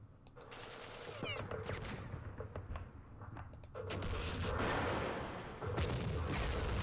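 Automatic and single gunshots ring out in the Vietnam War strategy game Campaign Series Vietnam, with bursts of machine-gun fire and heavier booming blasts running through the whole stretch, loud and dense.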